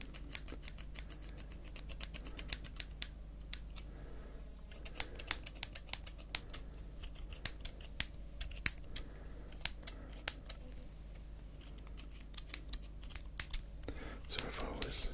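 Scissors snip in quick, crisp bursts close to the microphone, scattered irregular clicks over a quiet low hum, with no speech.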